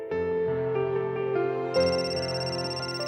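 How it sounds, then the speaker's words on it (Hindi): A phone ringtone plays continuously, a bright melodic electronic ring with layered tones that grows slightly louder midway, no voices. "शायद तुम्हारा फोन बज रहा है।"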